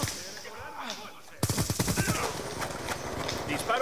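Rapid automatic gunfire from a Call of Duty: Black Ops 2 match, starting abruptly after a quieter stretch and continuing as a dense, loud burst of repeated shots with a player's voice talking over it.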